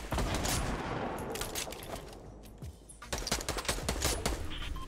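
Rapid bursts of gunfire from Fortnite Battle Royale rattle in quick succession, loud and dense across most of the stretch with a brief lull in the middle, no voices over it.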